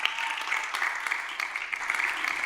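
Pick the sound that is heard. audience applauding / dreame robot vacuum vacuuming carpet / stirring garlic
audience applauding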